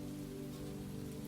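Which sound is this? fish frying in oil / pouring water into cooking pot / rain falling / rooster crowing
rain falling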